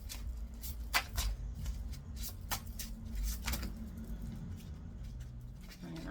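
Oracle cards being shuffled by hand, a series of crisp riffling flicks and soft patters repeating close up, with a faint low rumble underneath and no talking.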